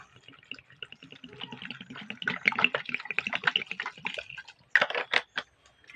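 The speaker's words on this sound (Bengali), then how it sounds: "এবার এই বেলের মধ্যে আমি কল থেকেই এক বোতল জল ভরেছি জলটা ঠান্ডা আছে এই জলটা দিয়ে দেবো" Cold tap water poured from a bottle into bael fruit pulp, heard as close splashing and squelchy dripping that builds and gets busier, ending in a few louder splashes.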